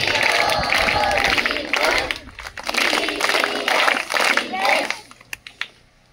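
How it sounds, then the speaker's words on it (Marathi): An audience at a school farewell gathering claps a welcome for three newly joined teachers, a dense burst of hand claps over the first five seconds that mixes with voices and then thins out into a few scattered claps. "गुड बेस्ट टाळी स्टार्ट."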